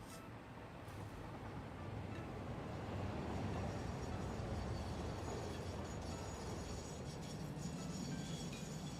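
A train in the video game Satisfactory: a faint, continuous rumble of rolling rail cars that holds steady throughout.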